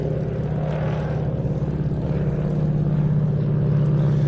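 A Catalina flying boat comes in to land at an air show, its propeller engines droning steadily and fairly loudly, building slightly toward the end.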